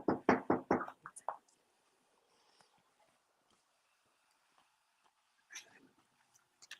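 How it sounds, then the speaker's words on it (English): A rapid run of about five sharp, loud knocks on a door opens the moment, followed by near silence with a few faint scattered taps; no one speaks. "When the door knocks."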